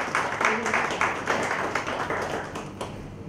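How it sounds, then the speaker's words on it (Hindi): Audience at a literary gathering applauding to welcome a speaker to the stage, with dense, steady clapping throughout. "मैं चाहता हूं तालियां बजाकर आप उनका स्वागत करें"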